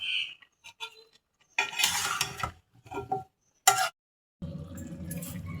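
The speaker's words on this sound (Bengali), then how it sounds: "এবার আমি কেটে ধুয়ে রাখা আলুগুলো দিয়ে দিচ্ছি।" Cut, washed potatoes tipped into a pot of country chicken curry, with a few close clatters and scrapes of a spoon against the pot, then a soft sizzling wash as they land.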